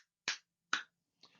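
Two sharp hand claps picked up by a Razer Barracuda headset microphone in a room, spaced about half a second apart, followed by a fainter, rougher burst of noise.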